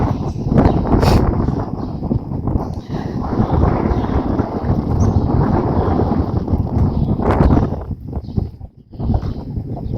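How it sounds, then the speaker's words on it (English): Strong wind gusting around the stone megalithic temples of Ħaġar Qim in Malta, a steady loud roar buffeting the microphone for most of the stretch before easing briefly near the end. "The wind is stronger from here."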